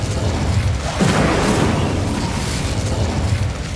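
Incendio fire spell cast in the video game Hogwarts Legacy, a loud whooshing burst of flame that swells after a second and roars on as a dense rumbling blast for the rest of the moment.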